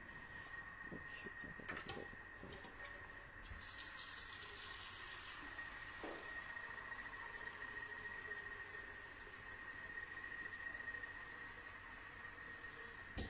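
Tap water runs steadily into a Thermomix bowl already holding rice, a continuous close hiss with faint clinks and kitchen handling noises, no talk.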